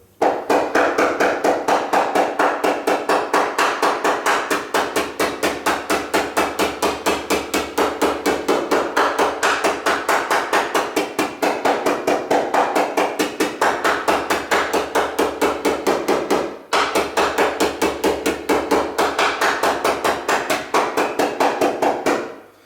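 A hammer taps steadily and rapidly on the edge of a Classic Mini boot skin, a long run of close, even metallic knocks with one brief pause, no voices.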